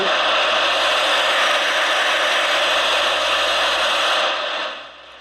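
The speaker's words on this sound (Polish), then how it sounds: "Normalny szum eterowy" Steady, loud CB radio static hiss with the squelch switched off and volume near maximum, a dense continuous rush that runs unbroken before dropping away near the end.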